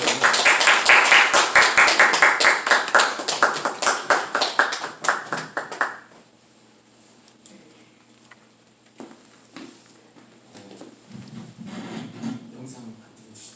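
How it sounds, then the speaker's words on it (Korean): A church congregation claps to welcome the pastor, with brisk, loud applause for about six seconds before it thins out and fades into a quieter room with faint movement. "우리 목사님 나오실 때 한번 박수로 한번 맞으시기 바랍니다."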